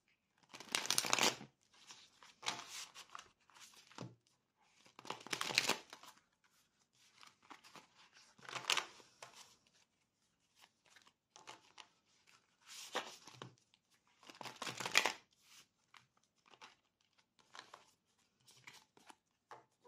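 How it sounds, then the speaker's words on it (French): Emma Poetica tarot cards are shuffled in repeated crisp riffling bursts, each lasting a second or two with short pauses between, close and clear, with no speech. "Alors, je remets mes cartes. De toute façon, à chaque fois, je les remélange entre chaque vidéo."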